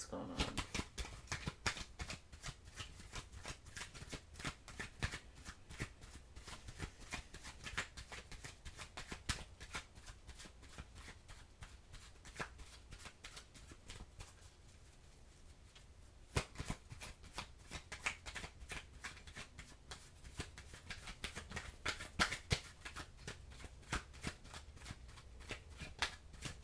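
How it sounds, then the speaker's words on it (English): Oracle cards are shuffled by hand in a long run of quick, riffling flutters and soft slaps. A voice talks steadily over the close card noise. "as I'm shuffling, I just got a little message"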